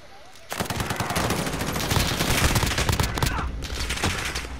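Sustained rapid automatic gunfire in a Call of Duty match, loud and continuous for several seconds after a brief quieter lead-in, with faint voices beneath the shooting.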